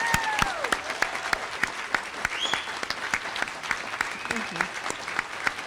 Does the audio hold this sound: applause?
yes